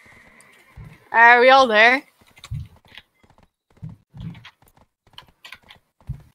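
A horse in a multiplayer video game gives a loud whinny near the start, followed by scattered soft hoof clip-clops and clicks, with players talking over it.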